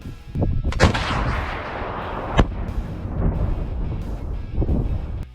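Light infantry weapons fire at a target on a military range: loud, sharp gunshot cracks ring out, a few widely spaced blasts with rumbling echoes and outdoor wind noise between them.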